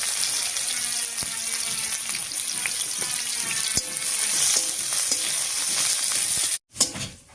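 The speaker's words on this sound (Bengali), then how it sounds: "তেল গরম হয়ে গেছে, এবার তেলের উপরে দিয়ে দিচ্ছি কালো জিরা, এর উপরে দেবো থেতো করা রসুন, দিয়ে দিচ্ছি বেশ খানিকটা পেঁয়াজ কুচি" Nigella seeds, crushed garlic, chopped onion and slit green chillies fry in hot oil with a steady loud sizzle and crackle, a brief cut near the end before the frying resumes.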